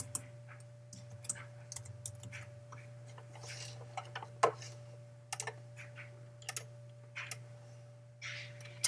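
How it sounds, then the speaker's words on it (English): Irregular keystroke clicks on a computer keyboard while text is typed into Photoshop, faint and close, spaced unevenly over a steady low electrical hum and light room noise. "So I'm going to start by typing stuff in."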